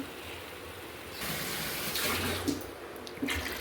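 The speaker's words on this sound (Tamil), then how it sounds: "ரெண்டு லிட்டர் அளவுக்கு தண்ணி ஊற்றிருக்கோம்" Water runs and splashes into a pot, about two litres poured for bone soup, starting after a quiet moment and continuing steadily with a few clinks near the end.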